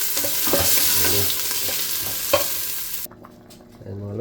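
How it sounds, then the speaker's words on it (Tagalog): Pork caldereta sauce with pineapple juice bubbling and sizzling in a pan while a utensil stirs and scrapes through it, the stirring pausing briefly near the end. "Kumukulo-kulo na."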